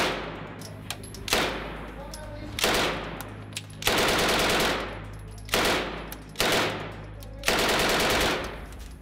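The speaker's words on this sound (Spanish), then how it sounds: "El PPSH-41 fue un subfusil soviético diseñado por Giorgio Spagin como una alternativa barata y simplificada del subfusil PPD-40" Soviet PPSh-41 submachine gun firing in long full-auto bursts, about six loud rapid-fire strings separated by short pauses, close and dominant with no voices.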